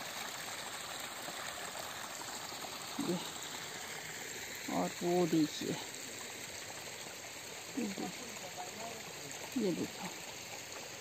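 A natural mountain stream near a hill village flows in a steady, faint wash, with someone speaking briefly over the running water.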